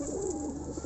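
Soft, low pigeon cooing heard briefly, a murmuring throaty call over faint background noise.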